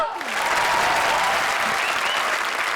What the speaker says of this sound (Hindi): तो हो जाए जोरदार तालियां